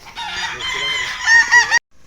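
A rooster crows loudly and close by on a Philippine farm, a single strained call lasting under two seconds before cutting off.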